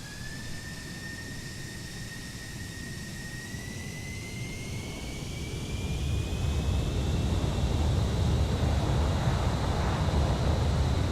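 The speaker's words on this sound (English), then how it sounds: "It seems that the afterburner kicks in automatically, which is ridiculous." A DC Designs F-16 Falcon jet engine roars with its afterburner in a flight simulator, a steady broadband rush carrying a thin rising whine that climbs in pitch and grows louder over the second half.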